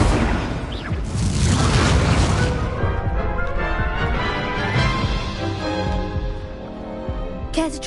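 An Incendio fire spell from Hogwarts Legacy erupts in a loud whooshing roar that swells and fades over several seconds, with clattering game effects and a brief sharp sparkle near the end.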